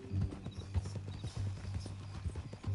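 Horse hooves clip-clopping in the Red Dead Redemption 2 video game, a steady walking rhythm of soft thuds heard fairly close with faint background ambience.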